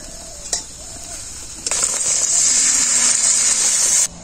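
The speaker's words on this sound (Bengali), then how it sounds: "এরপর আমি এর মধ্যে দিয়ে দেব অল্প করে জল।" Water poured into a pan of spinach sautéed with spices for palak paneer, setting off a loud, sustained sizzle and hiss after a few light utensil clinks, then cutting off abruptly.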